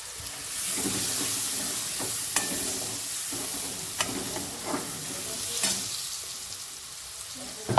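Mutton frying with tomatoes in a pan, a steady bright sizzle with occasional stirring scrapes and small pops throughout, close and alone with no voices.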